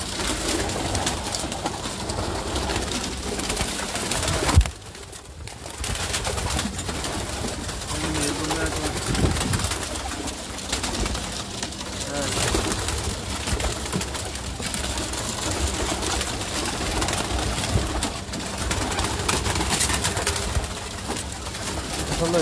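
Pigeons coo steadily across the stretch, fairly close and continuous, with a brief dip in sound partway through; red-crested birds kept by a pigeon fancier in Pakistan.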